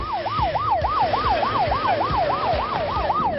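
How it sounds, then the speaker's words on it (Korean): A mountain rescue vehicle's siren wails close by in a steady rising-and-falling cycle, about three sweeps per second, sounding loud over a low rumble of the moving vehicle. "그때 사이렌 소리와 함께 등장한 구조차 한 대."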